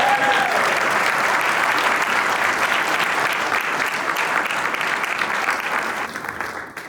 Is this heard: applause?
yes